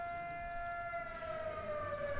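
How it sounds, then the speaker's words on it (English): A town siren in Afton, which sounds daily at 8 a.m. and 6 p.m., holds a steady wailing tone with a slight downward glide, heard faintly in the distance. "that's a siren that goes off in Afton at 8 o'clock in the morning and 6 at night"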